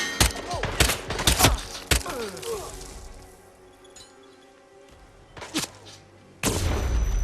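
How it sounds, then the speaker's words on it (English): Grenade explosions and gunfire in the video game Hitman III, a series of sharp close blasts and shots with quieter gaps between them, ending in a heavy rumbling boom. "They throwing them grenades again, man."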